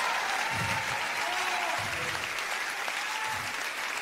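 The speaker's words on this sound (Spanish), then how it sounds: "Un fuerte aplauso." A Christmas concert audience applauds steadily and loudly during a live rock show, with some low voices or cheers rising beneath the continuous clapping.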